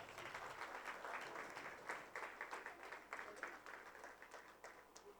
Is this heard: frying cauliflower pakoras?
no